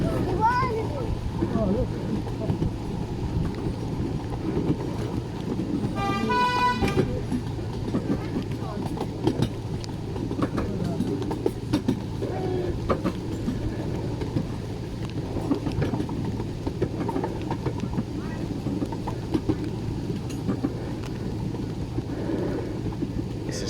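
A miniature railway train runs past at Barnards Farm Gardens with a steady mechanical rumble and faint rhythmic clicking, and a short whistle-like tone sounds partway through.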